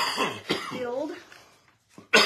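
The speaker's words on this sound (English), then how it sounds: "I think there's something in this house that makes me cough" A person coughs and clears their throat indoors: a couple of rough, husky bursts, then a short pause and a final sharp cough, close and moderately loud.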